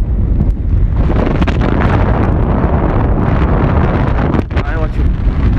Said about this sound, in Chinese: 看这风，今天是阴天，刮大风。